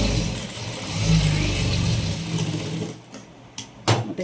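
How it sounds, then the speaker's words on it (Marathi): A sewing machine stitches a blouse at close range, running in a steady whirring burst that stops, followed by a few short clicks and taps. "आता याला सुद्धा आपल्याला दाब टीप द्यायची आहे व्यवस्थित."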